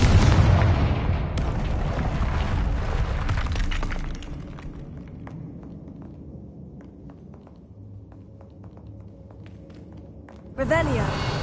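Confringo blasting spell in Hogwarts Legacy, a loud booming burst with crackling debris that fades into a lower rumble, followed by a fresh bright swell near the end.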